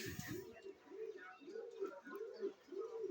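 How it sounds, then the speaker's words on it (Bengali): Domestic pigeons, kept with eggs and squabs, coo softly and close by. Five evenly spaced, rolling coos repeat about every half second. "কিছু কবুতর বিক্রি করব ডিম বাচ্চা সহ"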